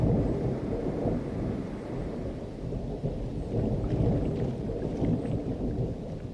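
Spring rain falls steadily with deep rumbling thunder, a dense continuous wash of downpour with low rolling booms throughout, with no voices.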